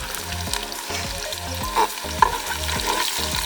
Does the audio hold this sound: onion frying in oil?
yes